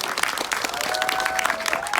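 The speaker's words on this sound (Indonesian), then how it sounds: "Yasmin tepuk tangan dong" Applause from an audience at an Indonesian film press event, a steady patter of many hands clapping at moderate level, with faint voices in the background.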